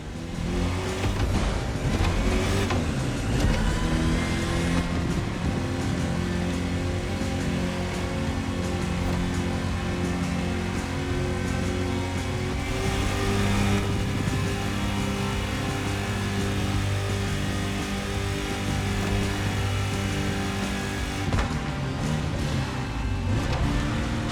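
A car cruises in the racing game The Crew Motorfest, its engine droning steadily with shifting revs and a constant hiss of road or rain noise throughout.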